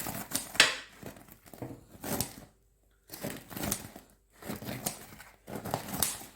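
Crisp crust of a freshly baked high-hydration focaccia crackles and crunches up close in several short bursts separated by brief silences, fairly quiet.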